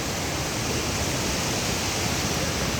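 River water flows in a steady, even rush, a dense hissing wash with no breaks or voices.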